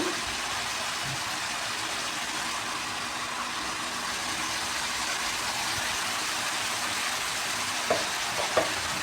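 Vegetables for a Tamil poriyal sautéing in a pan, a steady soft sizzle with a faint hiss throughout and two small clinks of stirring near the end, no voices.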